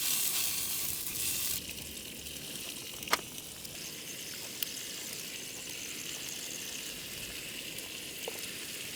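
Sausages frying in a pan on a Jetboil stove while wild camping in the Peak District: a steady, close sizzle and crackle, louder at first and then settling, with a few sharp taps of a utensil on the pan.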